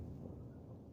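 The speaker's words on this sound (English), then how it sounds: "I qualify this as the first spring thunderstorm" Low, heavy thunder rumbles on steadily through a preseason spring thunderstorm, with a dense, muffled, distant roll.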